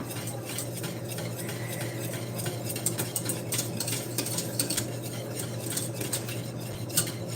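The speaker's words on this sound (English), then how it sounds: "I'm just gonna whisk it as it's boiling here" A whisk rattles and scrapes quickly against a pan as a mixture boils over high heat, a busy, close metallic clatter that runs steadily throughout.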